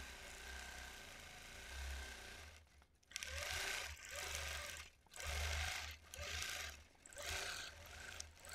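A sewing machine stitches in free-motion quilting, running in repeated bursts of fast whirring with short pauses between them, close and fairly quiet, with faint talk in the background.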